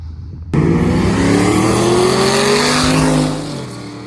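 A drag race car engine roars loudly nearby, its pitch climbing and dropping as it shifts up through the gears, then fades slightly.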